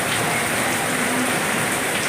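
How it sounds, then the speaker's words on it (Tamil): A downpour drums steadily on a tiled house, a loud, constant wash of raindrops with no pauses and no voices. "நல்ல ஒரு மழை"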